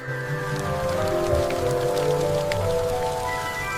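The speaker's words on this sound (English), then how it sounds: "It's gonna rain, Minnie!" Steady rainfall patters on surfaces in a cartoon beach scene, mixed under light sustained music tones, even and moderately loud throughout.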